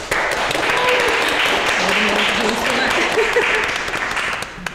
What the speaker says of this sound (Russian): давайте зафиналимся аплодисментами роскошными